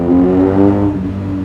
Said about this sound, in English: with that SC Project exhaust on the back? Blip blip, rumble rumble.